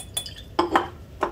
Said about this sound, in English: I rinse the inner walls of the Erlenmeyer to make sure all of the contents are at the bottom.